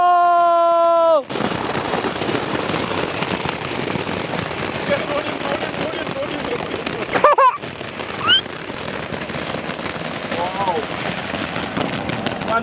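Deepavali firecrackers lit by a family burn with a loud, continuous hissing crackle after a brief quieter start, broken by a sharp pop near the middle, with voices faintly underneath.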